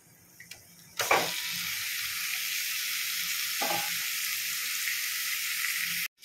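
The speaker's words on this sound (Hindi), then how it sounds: "अब इन मसालों के साथ चिकन को अच्छी तरह से मिक्स कर लेंगे और इसे भूनेंगे।" Chicken hits a hot kadai of fried onion and spices and sizzles loudly and steadily for several seconds, close up. There is a brief stir partway through, and the sizzle cuts off abruptly at the end.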